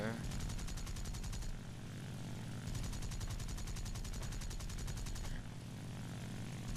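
Cannon fire from an N1K2-Ja fighter in War Thunder rattles in two long rapid bursts over a loud, droning propeller engine, with a pause between bursts and the engine continuing after.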